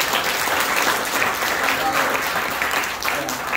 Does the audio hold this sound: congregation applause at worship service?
yes